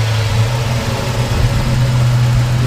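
A 1940 Mercury 8 coupe with a fuel-injected Ford 351W V8 idles smoothly, a loud, close, steady low rumble running throughout with no talk.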